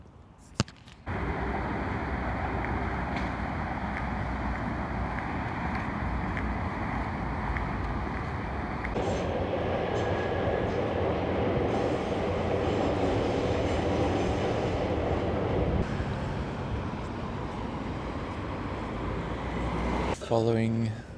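A Yamanote Line commuter train in Tokyo rumbles past close by for a long stretch, a steady loud rolling roar with wind noise, fading at the end.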